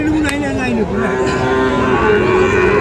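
Sahiwal calves and cattle at a busy cattle market in Ambari, Dinajpur, lowing steadily with drawn-out moos over a constant crowd din and faint voices.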